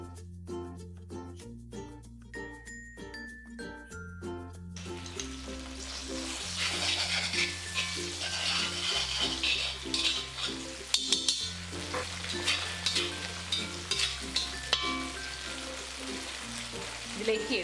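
Chilli paste and tomato sauce are stirred in a pan for garlic chilli chicken, with a soft sizzle and scraping strokes under steady background music.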